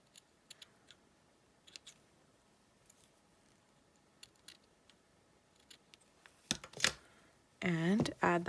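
Scissors snip the ends of a strip of card-making material at an angle. Small, sharp clicks and cuts come in an irregular scatter, close and fairly quiet, and then a voice starts talking at the end.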